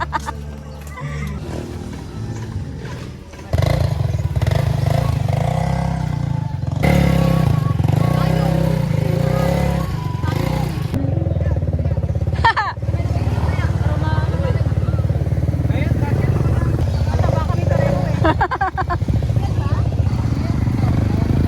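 A motorcycle engine runs with a loud, steady low rumble that starts abruptly a few seconds in and holds throughout, while people talk over it.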